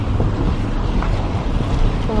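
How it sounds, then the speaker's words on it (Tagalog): Strong sea waves crash and churn at high tide during a typhoon, a dense, continuous roar of water mixed with heavy wind buffeting the microphone, loud and close throughout. "Ganyan baga talaga, lakas ang alon din sa dulo, kabsat, oh. Sobrang lakas ang alon."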